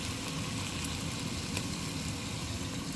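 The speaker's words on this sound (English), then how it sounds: "Then I fried it a little bit." Chopped green and red chilies frying in a pan with onion, a steady, dense sizzle that runs evenly throughout, close and continuous with no voices.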